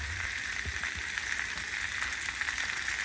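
Zucchini frying in a pan with onion gives a soft, steady sizzle throughout, fairly quiet, with no talking.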